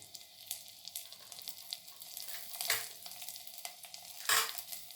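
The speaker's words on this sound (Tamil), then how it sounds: "எண்ணெய் காஞ்சதும் இந்த பூண்டு, அப்புறம் கருவேப்பிலை, கொத்தமல்லி" Garlic and curry leaves frying in hot oil for a Tamil horse gram rasam, giving a steady close crackle and sizzle with scattered sharper pops and stirring clatter.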